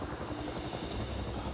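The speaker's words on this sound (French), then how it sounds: "Et il y a un hélico." Helicopter rotor drone in the video game Avatar: Frontiers of Pandora, a steady low rumble with faint periodic chop, heard on its own.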